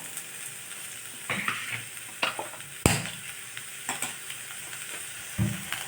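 Butter sizzles in a pan as cinnamon, cloves, a single cardamom pod, garlic and one small onion are sautéed for tomato soup, with a steady fry hiss broken by a few irregular stirring scrapes and clatters.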